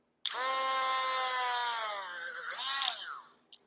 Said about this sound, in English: these holes the Dremel makes are perfect, and they're usually always pretty clean